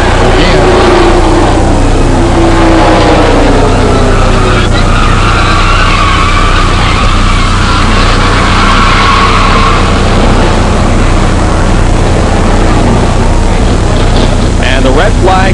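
NASCAR stock cars roll past slowly under a red flag at Daytona International Speedway during the 1990 Pepsi 400, a loud steady engine drone that swells as they pass, with a commentator talking over it throughout.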